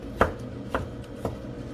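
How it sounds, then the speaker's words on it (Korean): A kitchen knife slicing a cucumber diagonally at 1 cm intervals on a cutting board, three crisp chops about half a second apart, close and distinct over quiet room noise. "1cm 간격 썰어주시고요."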